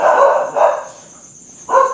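A dog barks in short bursts at night in a cemetery in Bulacan, province in the Philippines, three loud barks with a pause before the last.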